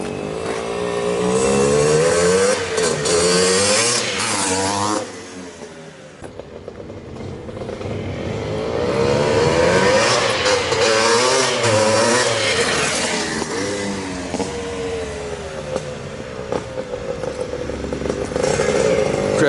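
A 1979 Honda CR250 Elsinore motorcycle with a DG pipe revs hard up close. Its raspy engine note climbs and falls in repeated bursts, dips briefly, then winds up again loudly.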